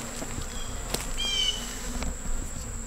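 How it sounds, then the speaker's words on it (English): Bees buzzing steadily close by, a constant insect drone with a few louder passes over a faint outdoor hum. "Got some bees."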